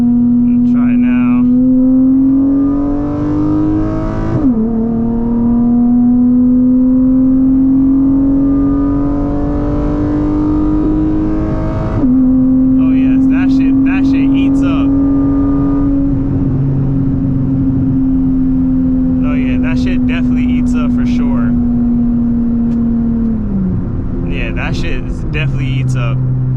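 A car fitted with a new drag race transmission tune pulls hard in second gear, its engine droning loud and steady with rising pitch and a brief dip, while people talk over it in the cabin.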